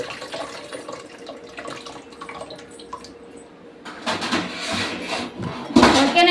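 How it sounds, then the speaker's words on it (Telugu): Water pours into a bowl while pani puri is made at home in a kitchen. After quieter handling and drips, a louder splashing stream starts and keeps running, close by and gurgling toward the end. "దీంట్లోకి మనం తగినంత వాటర్ అయితే పోసుకోవాలి."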